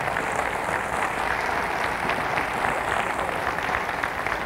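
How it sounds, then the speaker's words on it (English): A church congregation clapping hands during a sermon service, a thick, continuous wash of many hands applauding together at steady loudness, with no talk over it. "Give the Lord a hand clap."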